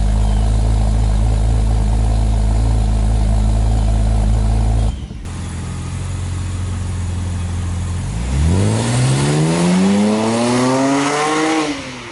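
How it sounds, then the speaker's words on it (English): A BMW 328i with a custom exhaust rumbles loudly at a steady idle on a cold start, cuts off abruptly, then revs up with a rising, throaty pitch before settling. "this is a cold start"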